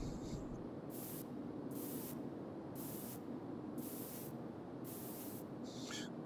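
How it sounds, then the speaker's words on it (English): A spray paint can hisses in a virtual reality graffiti game, with five or six short even bursts of bright spraying separated by brief pauses, close and clear. "now when I spray a dot, you'll see that there's a lot more definition to that dot"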